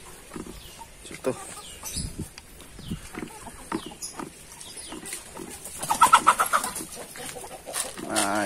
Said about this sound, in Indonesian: langsung saja kita ke kandang ayam